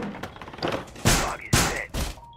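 A video-game barricade being set: a few heavy thumps and slams, three loud hits in quick succession with short gaps, close and punchy.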